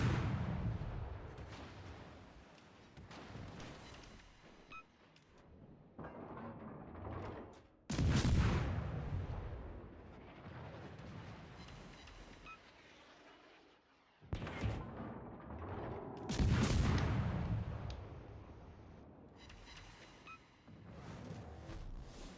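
Naval artillery booms and gunfire in the warship combat game World of Warships, with heavy broadband blasts at about 8 and 14–17 seconds over a steady rumbling battle bed, loud and close, with no talk.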